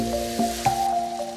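Sliced chicken with Sichuan pepper powder and dried chili stir-fries in a hot wok, giving a steady close sizzle with a few soft spatula stirs and squishes.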